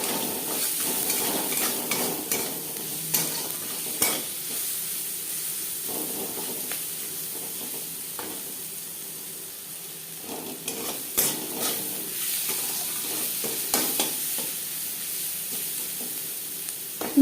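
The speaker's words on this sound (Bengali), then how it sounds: "চার মিনিট পেঁয়াজ ভেজে নেওয়ার পর" Onions frying in a pan with turmeric and salt for a katla fish curry, a continuous hiss and sizzle broken by intermittent stirring clinks and scrapes, close and moderately loud with no voices.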